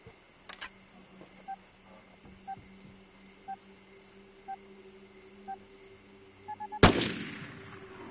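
Pistol fire in the video game Vigor: a single loud, sharp shot ringing out with a decaying tail near the end, preceded by a steady series of soft regular clicks and quiet menu tones over a low hum.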